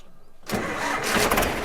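A tractor engine cranks on its self-starter and catches, settling into a loud, steady running rumble at close range after a short burst of cranking.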